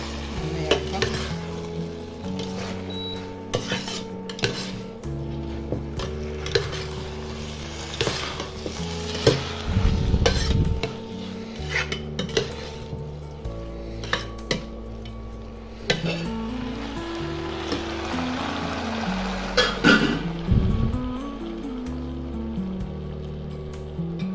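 Chicken manchurian with spring onions is stirred and fried in a pan, a steady sizzle under repeated scraping and clattering of a spoon against the metal, with louder bursts of stirring now and then.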